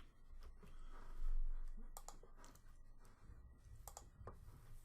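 Keys clatter on a computer keyboard in quick, faint bursts of clicks separated by short pauses, quiet and close against a soft background.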